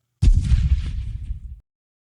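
A single heavy cannon blast, a loud deep boom with a rumbling tail that fades over about a second and a half, then cuts to silence.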